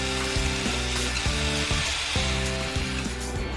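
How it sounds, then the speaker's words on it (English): A power drill whines steadily and loudly, its motor pitch dipping and recovering several times as it bores a hole in a truck, with no voices. "I'm better off using a hand drill."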